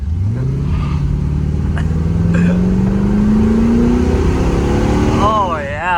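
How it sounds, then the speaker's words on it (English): An old restored Corvette accelerating hard, its engine note climbing steadily in pitch as it pulls through the gear, loud and close from inside the car, with people talking over it. "for such an old car, like obviously it's been restored, this thing's so fast"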